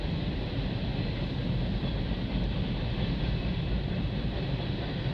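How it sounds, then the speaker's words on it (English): A CN/CP freight train rolls past in Milton, Ontario, giving a steady, heavy low rumble and vibration that holds evenly for the whole stretch, fairly faint and without voices. "I can hear the train vibrating."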